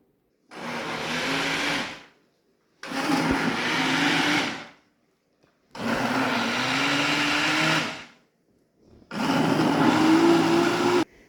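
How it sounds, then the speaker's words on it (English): A hand blender puréeing food in a kitchen runs in four separate bursts of about two seconds each, a loud close motor whine with brief silent pauses between pulses. "blend it all into a puree"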